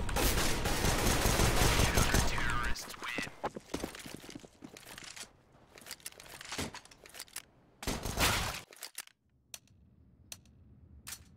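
Rapid automatic gunfire rattles in a Counter-Strike match, a dense burst at the start followed by scattered single shots and short volleys of varying loudness, with gaps of near silence toward the end.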